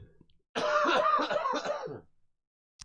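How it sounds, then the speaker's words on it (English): A single person coughs in a harsh, rough burst of several quick hacks lasting about a second and a half, close and clear against near silence. "That's not a COVID cough."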